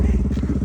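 A Honda Dio scooter engine running close by, giving a brief, steady, low putter with an even rhythmic pulse.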